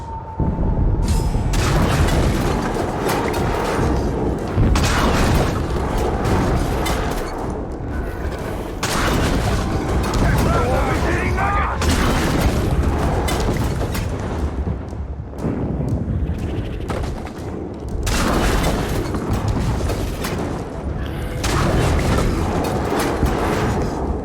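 Heavy explosions and booming blasts in the Middle-earth: Shadow of War video game as a siege beast is destroyed, a dense, loud, sustained rumble of detonations with brief lulls between bursts.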